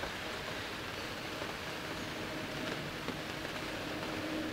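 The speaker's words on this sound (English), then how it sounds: "The rain's really coming down now." Heavy rain pours down steadily outdoors at a croquet championship, a constant dense hiss with no breaks and no voices.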